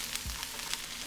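Shiitake mushrooms sizzle in a hot stir-fry pan with vegetables for vegan udon, a steady low hiss with faint crackles throughout, close and fairly quiet.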